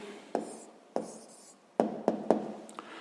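Pen or chalk taps and strokes on a surface while writing out a math answer, giving about six sharp, separate strikes with short scratchy tails, close and clear against a quiet background with no talk.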